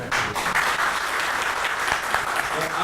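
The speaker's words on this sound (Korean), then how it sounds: "박수 부탁드립니다." Audience applause at a Korean open data forum seminar on election data journalism, a steady dense burst of clapping from a roomful of people throughout, with no voices over it.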